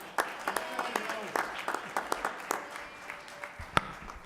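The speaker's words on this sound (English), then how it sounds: "with a warm round of applause, help me bring to the podium our Councilman at Large" Scattered audience clapping greets Councilman at Large Flavio Rivera at a Black History Month honorees celebration, with individual sharp claps standing out against a soft room background and fairly quiet overall.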